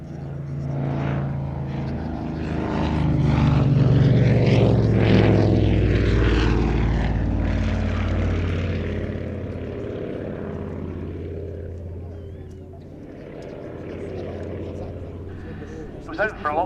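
A propeller aircraft in RAF Coningsby station flight colours passes at the Duxford Battle of Britain air show, its engine drone swelling to a loud peak and fading away, with a commentator talking over it.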